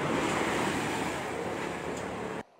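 Strong ocean waves crash during a storm with heavy rain, a loud, continuous roaring wash of surf and wind noise that cuts off abruptly at the end.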